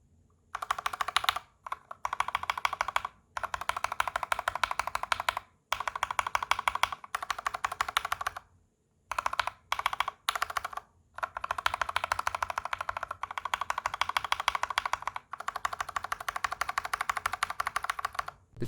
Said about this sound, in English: You can also hear how the factory lube switch sounds a bit more hollow compared to the two that were broken in and re-lubed and filmed.